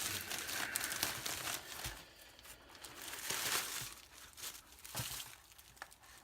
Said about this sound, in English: Comes in a secondary plastic bag.